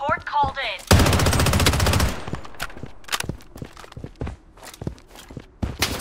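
Gunfire in the video game Blood Strike: a loud rapid automatic burst lasting about a second, followed by scattered sharp single shots and quick footsteps, with a short voice at the start.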